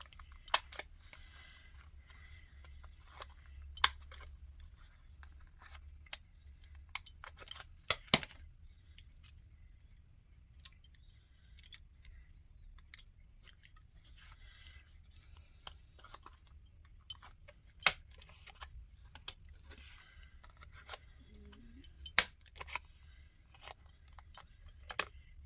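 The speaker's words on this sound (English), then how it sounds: "Let me get my corner rounder though first." A corner rounder punch trimming the corners of paper art trading cards, heard as scattered sharp clicks and snaps spread over a long quiet stretch, some close and crisp, others faint, with soft handling noises between.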